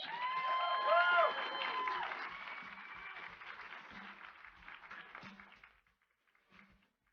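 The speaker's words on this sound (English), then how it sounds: "Round of applause." A conference audience breaks into a round of applause mixed with cheering and a few whoops, loud at first, then fading away into near silence, with some voices heard within the crowd noise.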